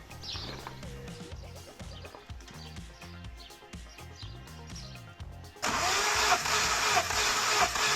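A homemade four-cylinder engine on a Peugeot 806 replica project is cranked with a rhythmic chugging and clattering turnover, then suddenly catches or roars louder near the end, close and loud with no voices.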